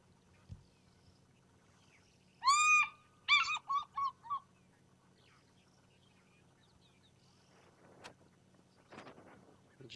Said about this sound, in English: I just wanted to play that softly into my mic so we didn't annoy this fish eagle.